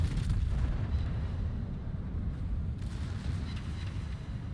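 A full gun volley from a tier 10 American battleship, the Louisiana, in World of Warships comes across as a deep, rolling boom that rumbles on heavily for several seconds without a break.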